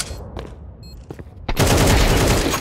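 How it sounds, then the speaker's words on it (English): Rapid burst of automatic sniper rifle fire in a shooter video game, a loud sustained volley erupting after a second of quieter game sounds with a few isolated shots before it. "An auto sniper"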